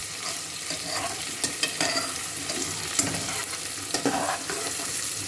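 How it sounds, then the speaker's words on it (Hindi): Onions frying in butter in a pan over high heat for a potato bhajiya and hot dog recipe, giving a steady, close sizzle with a few brief scrapes and stirs, no voices. "प्याज डाल दिए। प्याज को मैं थोड़ी सी लाल करूँगा"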